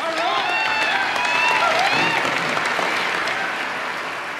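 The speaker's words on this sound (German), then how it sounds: "Einen Applaus für alle Teilnehmerinnen." Audience applauding pageant contestants, steady dense clapping with a cheer or whistle rising above it throughout.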